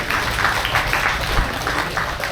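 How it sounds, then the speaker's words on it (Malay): Applause from an audience at the opening ceremony of an Mforce Smart Shop motorcycle dealership in Taiping, Perak: steady, fairly loud clapping from a crowd, continuous throughout with broad noise underneath. "Sila beri tepukan kepada mereka."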